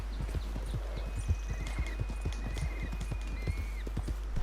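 Horse hooves clip-clopping in the Red Dead video game, a steady rhythmic trot of close, crisp hoofbeats continuing throughout over faint background ambience.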